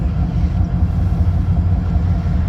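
Passenger train 43 (Ivano-Frankivsk–Kyiv–Cherkasy), hauled by a diesel locomotive, departs with a loud, steady low rumble and engine drone, continuous and close throughout.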